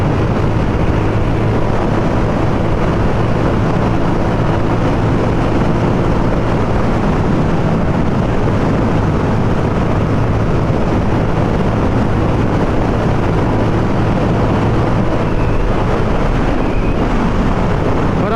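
Heavy, roaring wind buffets the microphone on a Honda CB125F motorcycle cruising at about 95 km/h on a highway, a constant loud rush with the engine buried underneath.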